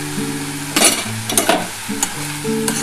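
Radish greens fried in a pan with turmeric and a little sugar, a soft background sizzle broken by several sharp scraping clatters of stirring, with a faint tonal hum underneath.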